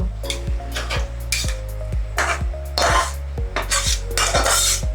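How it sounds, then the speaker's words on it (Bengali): Food being tipped from a bowl into a cooking pot in a home kitchen, with repeated metallic clanks and scrapes of utensil against vessel in a quick, uneven series, loud and close, no talking. "এটাকে আমি এবার পাত্রে ঢেলে নেব।"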